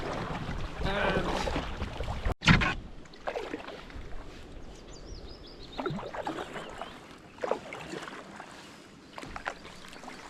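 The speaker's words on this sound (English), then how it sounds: "half an hour of paddling against the wind" A solo canoe is paddled into a headwind on open water in the Scottish wilderness, with soft rhythmic paddle splashes and gusting wind noise across the microphone, one sharp loud knock near the start.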